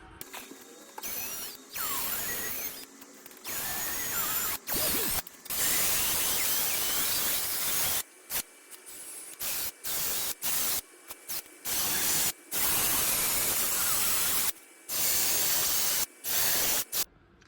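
A small Milwaukee power tool scours corrosion off brake parts in repeated on-off bursts, loud and close, its broadband whir starting and stopping in short and longer runs with brief silent gaps between.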